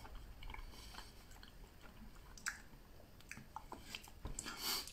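Beef being chewed, soft wet mastication with small squishy bites and occasional crunchy snaps, close to the mic and fairly quiet, with no talking.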